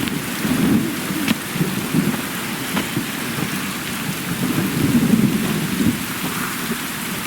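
Steady heavy rain pours throughout, with low rumbling thunder rolling beneath it and a few sharp cracks cutting through, in the video game The Witcher 3: Wild Hunt.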